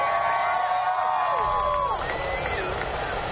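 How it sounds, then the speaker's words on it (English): A crowd cheers and yells steadily as Donald Trump steps off Air Force One in Springfield, Missouri, with a dense, continuous roar under a narrator's voice. "Greeted with a big round of applause, a lot of yelling and encouragement"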